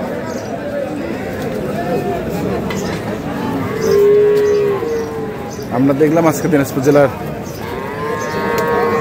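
Bulls and cattle low at the Ambari livestock market in Dinajpur, with a few loud, drawn-out moos in the foreground as someone talks over the crowd noise.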